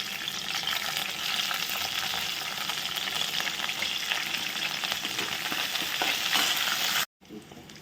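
Cluster beans fry with curry leaves and crushed garlic in a hot pan, a dense continuous sizzle with stirring scrapes, close and loud, cutting out abruptly near the end.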